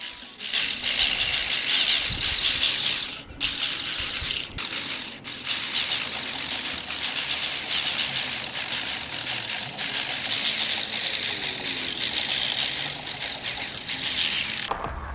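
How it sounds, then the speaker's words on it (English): A power tool cutting the outer edge of a DIY Red Bull RB19 F1 sim racing steering wheel, a continuous high whining drone with brief pauses, close and loud. "now I will cut the outer part of the steering wheel"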